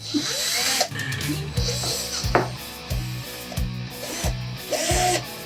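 A power drill whirs in short repeated bursts, revving up and stopping several times in close succession, with occasional knocks and scraping between runs.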